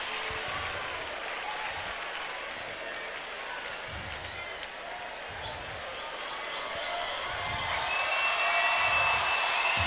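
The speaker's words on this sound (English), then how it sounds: "The reason you are hearing that applause, he is the father of the day." Sustained audience applause at a school graduation ceremony in Nigeria, a steady dense wash of clapping from a large crowd heard at a distance and growing slightly louder toward the end.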